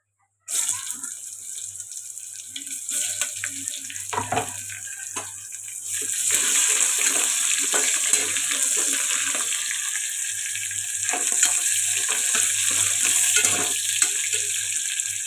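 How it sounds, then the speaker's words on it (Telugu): Chopped onions frying in a pan with tempering of chillies and curry leaves for Andhra-style spinach dal, heard as a steady close hiss that thickens after a few seconds of clinking, with no talk. "కొద్దిగా ఫ్రై అవ్వాలి ఉల్లిపాయలు ఇలా ఫ్రై అవుతున్నాయి కదండి"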